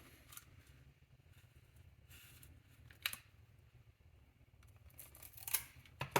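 Adhesive tape pulled and torn in a few short bursts while assembling a pencil-case RetroPie handheld, quiet crackling strips and snaps with near silence between them.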